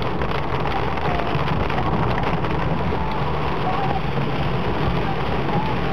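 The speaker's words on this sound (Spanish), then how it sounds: "Esta es una panorámica de la lluvia." Heavy rain falls steadily after days of drought in an open landscape with muddy runoff, a dense unbroken roar of drops that stays loud and even throughout.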